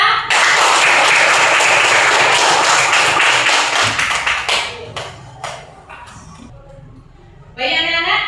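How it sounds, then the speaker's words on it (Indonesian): Schoolchildren in a classroom clap together in a loud, dense burst lasting about four seconds, then the applause thins into scattered claps and fades, with a brief noisy swell near the end. "Tepuk tangan untuk kita semua."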